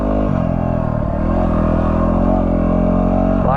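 A Yamaha WR250R motorcycle engine running right after a jump start, a steady close idle with a strong low rumble that holds for several seconds.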